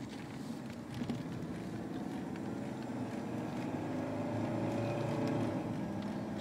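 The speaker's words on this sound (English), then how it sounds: "I'm going to go ahead and pull out in traffic here, just where you can see and hear how it shifts and, you know, how it runs." A 1982 Mercedes-Benz 300 SD diesel pulls into traffic and shifts through its gears, heard from inside as a steady low engine drone under wind rush that swells gradually, with no talking.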